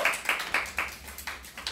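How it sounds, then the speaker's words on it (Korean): A few people at an idol group's award ceremony clap in a slow, even rhythm, about seven distinct claps, fairly faint and close, with no talking over them. "네, 박수 한 번"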